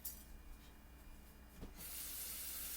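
Tap water running into a pot for making watermelon Starburst jello, a faint hissing flow that swells into a louder, steady gush partway through, heard alone at close range.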